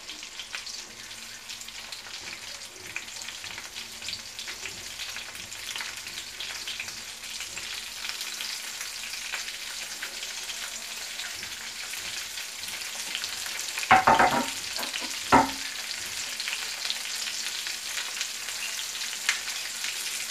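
Onion and coriander frying in a pan for caruru and vatapá in Salvador, Bahia, with a continuous soft sizzle and a couple of sharper scraping stirs near the middle, no voices.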